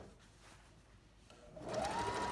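Sewing machine stitching fabric for a drawstring backpack, starting quiet then ramping up into a steady, close whirring run in the final second.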